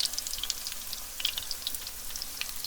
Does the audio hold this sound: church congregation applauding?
no